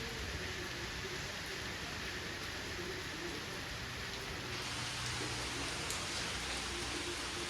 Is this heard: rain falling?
yes